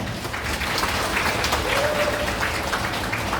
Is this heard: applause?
yes